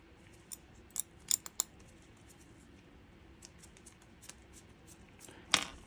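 Scissors snip threads during watch building, a few quick, sharp close cuts clustered early and one more near the end against a quiet room, no talking.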